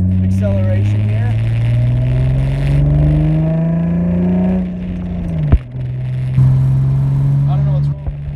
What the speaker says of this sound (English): let's do another little acceleration here